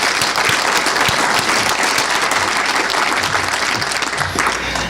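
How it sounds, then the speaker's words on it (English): A conference audience breaks into sustained applause after a presentation introduction, dense steady clapping from many hands lasting the whole stretch and tapering slightly at the end. "let's give him a round of applause."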